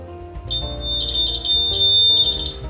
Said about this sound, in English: it's just a Stevie Neville alarm. Turn it on.